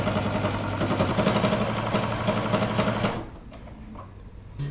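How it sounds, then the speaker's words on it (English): A sewing machine runs a quarter-inch seam along a dress seam allowance, a steady mechanical whir of rapid stitches that stops after about three seconds, leaving faint quiet. "So we're going to sew 1/4 inch from the edge, all the way around, leaving a small opening."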